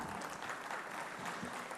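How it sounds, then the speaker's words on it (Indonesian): An audience at a formal university and brand event claps steadily and fairly densely, a continuous patter of applause heard from within the hall. "Ibu Junita Ciputra, tepuk tangan."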